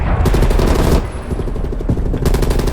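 Loud rapid gunfire in the video game Call of Duty Black Ops Cold War, with dense bursts of automatic shots that briefly ease off midway before picking up again, continuous and close with no speech.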